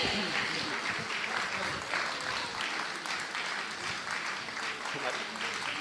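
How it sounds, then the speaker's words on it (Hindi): Audience applause rises at a national summit program in Delhi, a steady patter of many hands heard somewhat distant and faint, with voices speaking over it. "तो इनके सम्मान में तालियां तो बजनी चाहिए।"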